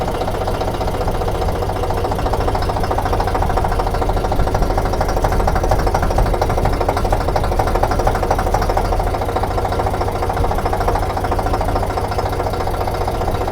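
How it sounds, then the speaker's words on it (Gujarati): A tractor engine chugs steadily at close range, a low rhythmic knocking drone that holds an even pace throughout. "ઘણા સમય પછી આપણે ટ્રેક્ટર ચલાવીએ છીએ"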